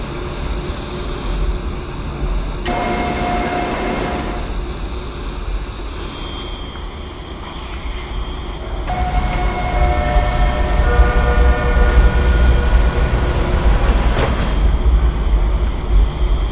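Roblox subway train of TTC Line 2 pulling into Islington Station, a loud continuous rumble and whine with tonal motor pitches shifting as it slows, rising louder midway, with no voices.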